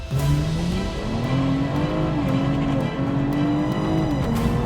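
A tuned BMW 340i with a B58 engine, upgraded intake, exhaust and M340 G20 high-pressure fuel pump launches hard in sport mode with wheelspin, its loud engine note climbing steadily through the revs with tire noise underneath.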